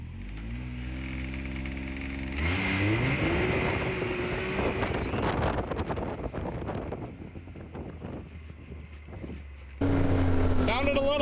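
Can-Am X3 Turbo RR or RZR XP Pro side-by-side launching hard on a drag test, engine note climbing sharply from a steady idle into loud rising revs with wind buffeting, then a renewed burst near the end.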